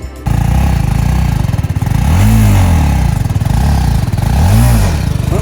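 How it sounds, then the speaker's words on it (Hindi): A BMW G310GS motorcycle fires up with a sharp start, then idles loudly and is revved twice in rising and falling swells, close up with no voices. "चलते हैं, बाइक स्टार्ट करते हैं"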